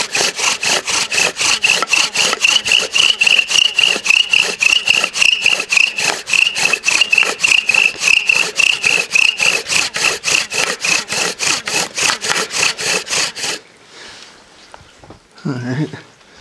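Bow drill spindle grinding back and forth on a thick wooden hearthboard, a rapid regular rasping rhythm of many strokes, close and loud, stopping near the end as a voice briefly speaks.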